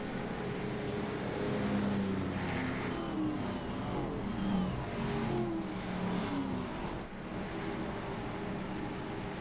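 Race cars rumble steadily at low speed behind the pace car on the flat Milwaukee Mile oval, a continuous droning engine roar with no voices.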